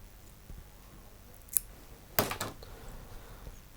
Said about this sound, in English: trim away the waste